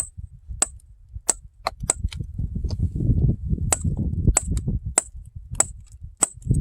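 Sharp, bright cracks and taps ring out at irregular intervals over a low, rumbling background as feather and wedges split rock from a gold vein nearby.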